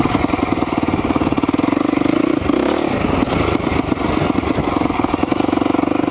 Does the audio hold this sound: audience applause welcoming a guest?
no